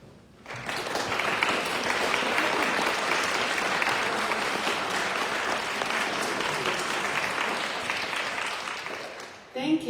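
Audience applause welcoming speaker Patti Krawec at a weekly service, a steady, dense burst of clapping that swells quickly, holds for several seconds, then fades at the end.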